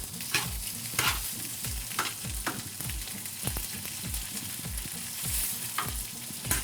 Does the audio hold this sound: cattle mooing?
no